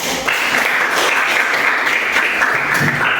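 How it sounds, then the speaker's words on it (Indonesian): A classroom of students gives a short burst of applause, a dense, steady wash of many hands clapping that runs loud and unbroken throughout. "Baik, kita berikan aplaus."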